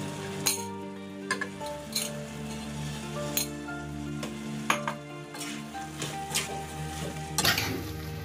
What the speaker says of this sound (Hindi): एक और चम्मच ले लेते हैं उससे मिक्स करेंगे अच्छे से इसको मिला लीजिए